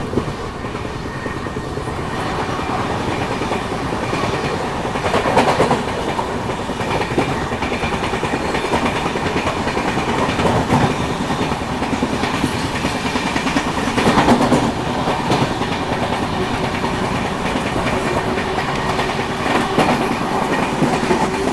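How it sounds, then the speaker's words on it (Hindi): A Duronto Express train runs at speed while overtaking the Mahabodhi Express, a steady loud rumble with rhythmic clickety-clack of wheels over rail joints heard from inside a 3AC coach. "महाबोधि का ओवरटेक भी यहीं पे होगा। Overtaking Mahabodhi express."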